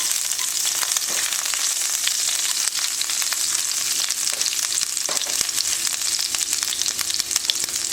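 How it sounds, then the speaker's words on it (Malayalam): Chopped garlic hits hot oil for chicken fried rice, giving a loud, continuous sizzle with scattered pops and occasional stirring clinks, with no talking. "അതിലേക്ക് ഞാൻ അരിഞ്ഞു വച്ചിരിക്കുന്ന ഗാർലിക് ചേർത്ത് കൊടുക്കാം"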